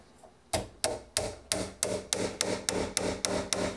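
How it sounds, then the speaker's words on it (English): A hammer drives the last finishing nail into wood trim around a dishwasher opening, landing about eleven sharp, evenly spaced blows that grow steadily quicker, close and clear with no talk. "I just need to put my last nail in"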